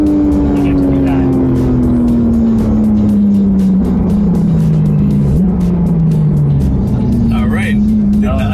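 Porsche 911 GT3 RS engine loud and close throughout, a steady high tone sliding downward then climbing again as it pulls through gears, with a voice talking over it.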